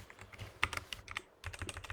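Soft typing on a computer keyboard, a quick irregular patter of key clicks with a short pause midway, quiet and close with no voices.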